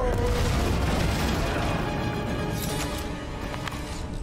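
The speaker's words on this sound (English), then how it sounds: "Wanna see some fireworks? Throw that, Drax" Explosions and loud booms during combat in Marvel's Guardians of the Galaxy video game, a dense, continuous roar of blasts with crackling debris throughout, near and loud, and no talk.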